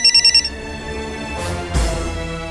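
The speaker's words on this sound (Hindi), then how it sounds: "संजय सर का फोन है" A phone ringtone plays loudly in a late-night Hindi crime drama scene, an electronic melodic ring with quick repeated beeps at the start, then sustained tones and a swelling music-like sting.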